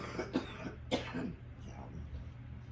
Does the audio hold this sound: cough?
yes